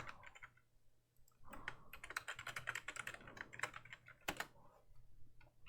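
A computer keyboard being typed on during a Kali Linux install in VirtualBox, with bursts of quick, close clicking keystrokes, brief pauses between runs, and a couple of sharper taps.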